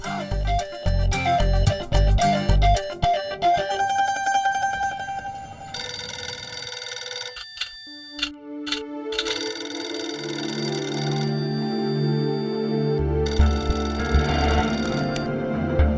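A telephone bell rings in repeated electronic bursts against a musical background, the trilling rings close and clear, pausing briefly between bursts over about sixteen seconds.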